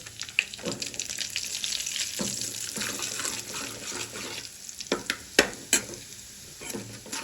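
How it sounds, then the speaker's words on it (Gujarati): A spoon stirs chili chutney into oil in a pan for garlicky carrot pickle, giving irregular close scrapes and clinks over a soft, steady sizzle-like hiss. "તેલમાં આપણે ચટણી મિક્સ કરી લઈએ આ રીતે"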